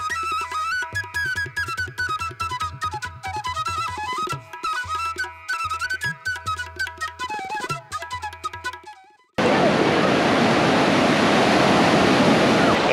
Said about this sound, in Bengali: এইবার একটু সমুদ্রের মধ্যে নামা যাক।